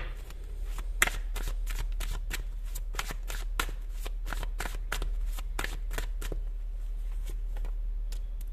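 A deck of tarot cards is shuffled up close, a quick run of around two dozen crisp snapping riffles in a fairly regular rhythm over a quiet room background.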